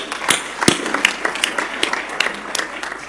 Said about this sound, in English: that deserves really some applause